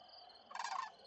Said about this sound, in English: They're like clucking, like a weird clucky sound.